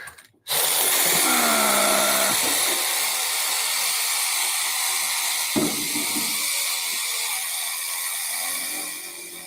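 Power saw with a carbide-tooth blade cutting through subfloor during a renovation, a loud sustained whining roar that starts abruptly and runs steadily for about nine seconds before easing off.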